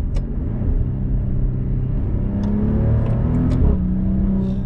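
Maserati Quattroporte Modena sedan engine accelerating from inside the cabin, a steady low rumbling drone that rises slightly in pitch and stays loud throughout, with no pops or backfires.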